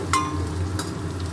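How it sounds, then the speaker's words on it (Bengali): Onions fry in hot oil with a soft, continuous sizzle, punctuated by a light clink of a utensil near the start and another faint tap partway through. "আমি এখানে পেঁয়াজ ভেজে নিচ্ছি"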